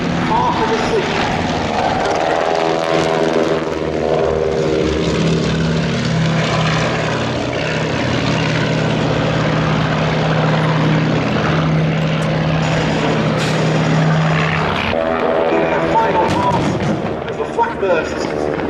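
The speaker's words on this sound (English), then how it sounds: "A low pass from one of the DR1s from our left" A Fokker Dr.I triplane makes a low pass at the Duxford air festival, its propeller engine droning and swelling as it sweeps by, with staged gunfire bursts and a commentator's voice over the top.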